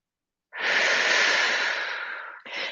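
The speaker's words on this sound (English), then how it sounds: "take a deep breath in" A long, steady deep inhale through the nose or mouth during a yoga and Pilates breathing exercise, close and loud for about two seconds, followed by the start of a second breath.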